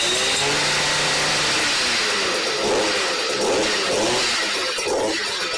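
Stihl MM55 tiller's small gas engine running with the choke off, a loud steady buzzing drone that rises and surges slightly as it revs, close by and alone.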